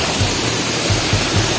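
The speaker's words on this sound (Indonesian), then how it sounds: "Wah, oh ternyata ini ada air terjun kecilnya juga di sini ya." A small waterfall at Curug Kepala Naga sends up a loud, constant rush of falling water close by, a dense, even roar with faint low splashes underneath and no voices.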